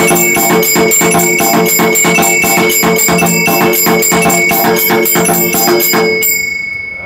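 An automatic home aarti machine rings its bells and jhalar cymbals in a loud, steady rapid rhythm, alone, until the mechanism stops near the end and the ringing decays.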